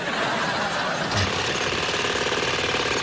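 A car pulls up with a constant, rough engine rumble that holds steady throughout, close and fairly loud, with no voices.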